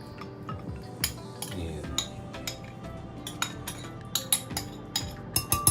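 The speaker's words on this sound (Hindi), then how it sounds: "इस सबसे पहले जो मैंने ये चंक काट के रखे हुए थे इसको ये जग में डाल लेते हैं।" Cut mango chunks go into a jug with a series of light clinks and taps against the container, quiet and close, irregularly spaced with a faint room hum beneath.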